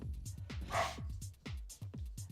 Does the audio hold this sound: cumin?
no